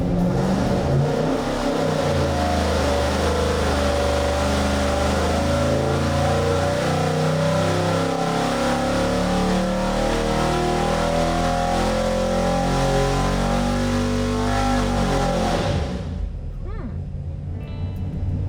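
A big block engine roars through a sustained dyno pull, loud and close, climbing steadily in revs for about fifteen seconds before cutting off abruptly, leaving a faint ringing tail.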